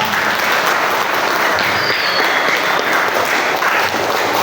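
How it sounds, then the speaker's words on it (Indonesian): An audience claps steadily through a school orientation event (MPLS), a dense, sustained burst of applause from a crowd that stays loud and even, with no speech over it. "Tepuk tangan dulu dong"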